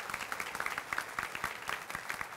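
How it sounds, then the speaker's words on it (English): A small seated audience at a chamber of commerce breakfast applauds together, a dense patter of many hands clapping continuously at moderate, slightly distant volume for a couple of seconds. "let's give them a round of applause"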